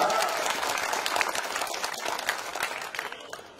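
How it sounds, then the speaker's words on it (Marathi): A crowd at an outdoor political gathering applauds to welcome Rajubhau Borde on his joining the Janata Party, with dense, loud clapping that fades slightly toward the end and voices mixed in. "जरा जोरदार टाळ्या वाजवून स्वागत करा"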